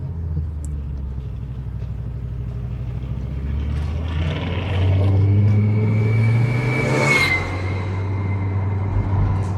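Car driving on a road trip, a steady low engine rumble that swells as it accelerates midway, with a passing whine and hiss, heard from inside at close range.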